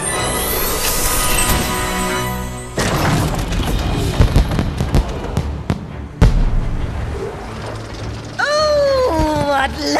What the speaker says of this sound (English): Oh, what lovely fireworks!